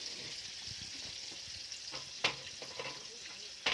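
Oyster mushrooms coated in Gogi crispy batter deep-fry in hot oil with a soft, steady sizzle, broken by two sharp clattering bursts, one in the middle and one near the end.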